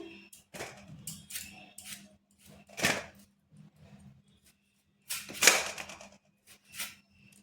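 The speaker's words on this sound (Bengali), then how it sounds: "আলুগুলোকে এইভাবে কেটে নিচ্ছি" Sharp knife cuts potatoes on a board, a few scattered strokes with two louder crisp slices standing out, close up with soft clatter in between.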